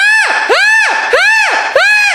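A singer lets out his typical high scream on a recording: four loud, piercing sung wails in quick succession, each swooping up and sliding back down.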